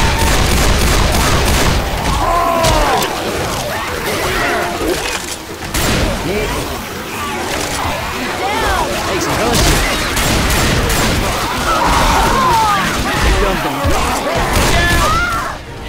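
Turret gunfire and heavy shooting fill a Left 4 Dead zombie shooter scene on the Hard Rain map. The loud, dense fusillade runs without pause, with rapid cracks and booms, and voices shout over the din.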